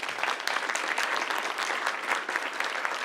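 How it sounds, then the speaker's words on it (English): A conference audience gives a steady, full round of applause for a staff member from the CEBA office, dense clapping sustained at even loudness throughout with no talk over it. "Round of applause for Kay, please."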